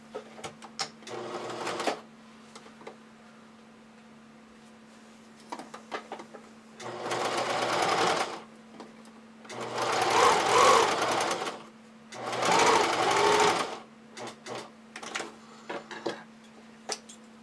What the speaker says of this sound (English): And now I'm gonna just baste them on.